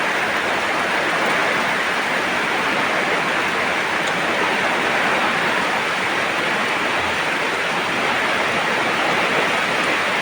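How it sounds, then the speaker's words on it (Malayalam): Heavy rain pours down steadily in Kerala, a dense, unbroken roar of water that stays loud and constant throughout with no voices. "ശക്തമായ മഴ."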